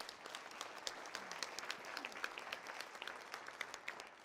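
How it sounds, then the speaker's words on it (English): A church congregation claps its hands, a faint, dense wash of many overlapping claps heard from a distance, steady throughout with no voices standing out. "Come on, clap your hands in this place."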